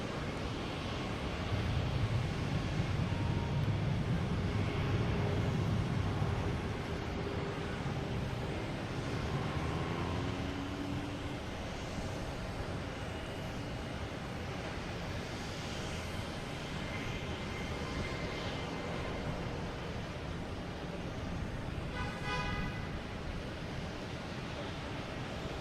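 Air France Boeing 777 airliner departing Boston Logan for Heathrow, a broad distant jet engine roar that swells and then slowly fades, mixed with wind and water lapping nearby.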